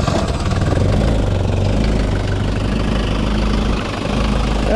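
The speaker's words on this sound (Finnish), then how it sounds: "Nyt pistetään moottori uudestaan käymään." A small engine running at a steady idle, a close, rumbling drone with a slight knock and no voices.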